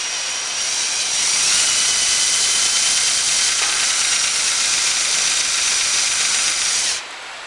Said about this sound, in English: It's a reverse drill bit too.